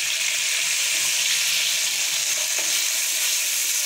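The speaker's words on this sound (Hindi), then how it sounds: "ऑयल जो है वो गर्म हो चुका है, अब हम लोग इसके अंदर आलू डाल रहे हैं।" Potato pieces fry in hot oil over a high flame for crispy spicy aloo bhujia, giving a dense, even, continuous sizzle close up with no talking.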